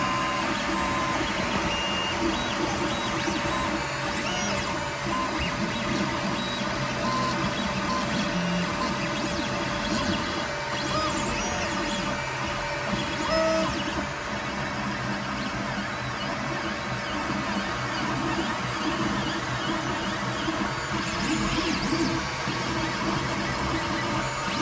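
A 3D printer with a glass bed prints switch panels for a sim racing wheel, giving a steady, dense whirring and stepping hum with faint high beeping tones, constant and close throughout with no talk.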